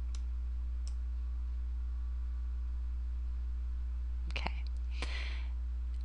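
A computer mouse gives a few sharp, close clicks, some single and some in quick pairs, spaced out over a steady low electrical hum in a quiet room.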